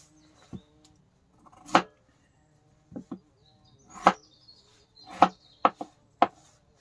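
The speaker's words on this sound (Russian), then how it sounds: "Крупными кубиками такими вот нарезаю картошку" Sharp knife chops potatoes into large cubes on a cutting board, spaced irregularly with short quiet gaps between cuts.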